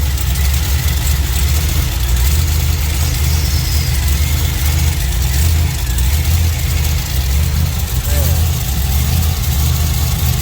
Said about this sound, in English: Still hear like a couple of tick exhaust noises.